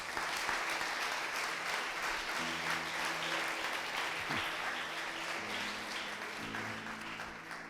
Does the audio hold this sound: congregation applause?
yes